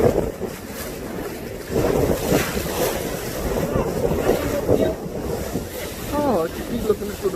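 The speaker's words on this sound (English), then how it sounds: "take riverboat rides, stuff like that" Riverboat ride with steady wind buffeting the microphone and water washing against the hull, continuous and fairly loud throughout, with a few indistinct voices in the background.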